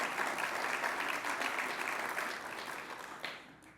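Audience applause at a national education announcement ceremony, a steady wash of clapping from a crowd that holds level and then slowly fades, heard alone without talk.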